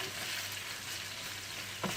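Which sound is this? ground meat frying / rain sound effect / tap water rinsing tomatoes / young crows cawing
ground meat frying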